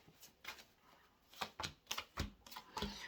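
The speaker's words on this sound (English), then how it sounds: "Let me just pull you 3 angel cards out." Angel cards are shuffled and pulled from a deck, a quiet, close run of crisp flicks and slaps in an uneven rhythm with no talking.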